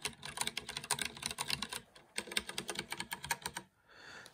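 Rapid keystrokes on a Freewrite distraction-free typewriter-style keyboard with an e-ink screen, a fast run of clicky key presses in two bursts with a short pause, close and clear with no talking.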